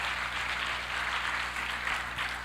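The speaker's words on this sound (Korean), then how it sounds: "박수할까요?" Soft, steady applause from a church youth congregation in a worship hall, faint and distant-sounding, a continuous wash of hands with a low hum beneath and no voices.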